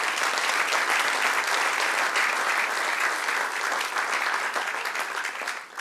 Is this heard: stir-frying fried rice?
no